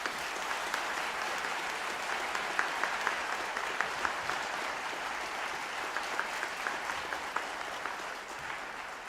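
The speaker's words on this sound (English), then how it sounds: "I'll ask that we give them a round of applause" Attendees at a Dalhousie University Faculty of Science graduation ceremony applaud faculty members, a steady, even sustained clapping from a large hall crowd, moderately distant and unbroken.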